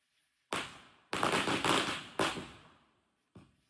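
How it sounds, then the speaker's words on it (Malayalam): Firecrackers bursting at a Vishu family celebration: four sharp, loud cracks spaced irregularly, each with a short rough decay, the last one quicker and clipped. "പടക്കം പൊട്ടുന്നുണ്ട്,"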